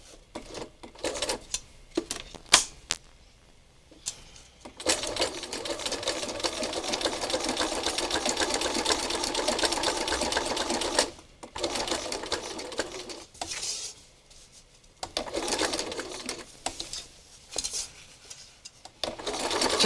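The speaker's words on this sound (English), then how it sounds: "I'm going to stitch right at the edge of the Velcro" A sewing machine runs a straight stitch right along the edge of a strip of Velcro in long, steady bursts, separated by short pauses and clicks of handling the fabric.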